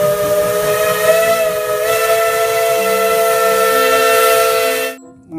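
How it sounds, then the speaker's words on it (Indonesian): A loud, sustained whistle from a toy steam train sounds with a hissing edge, holding steady for several seconds before cutting off abruptly. "Kereta api Thomas lagi, teman-teman"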